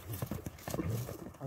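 Hooves of a racing horse clop in quick uneven beats, fairly close, while an outdoor voice mutters intermittently among the hoofbeats.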